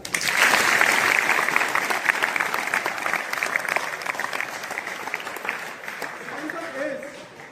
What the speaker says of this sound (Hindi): पहले तो इसके लिए तालियां।